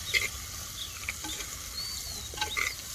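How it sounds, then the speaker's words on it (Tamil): Egg chukka with whole yolks is gently stirred in a pan in a garden setting, with soft, sparse scraping strokes over a steady sizzle and light outdoor background noise. "மஞ்சள் கருவை சேர்த்தோன்னே ஸ்லோவாக தான் கிண்டணும், உடையாத அளவுக்கு."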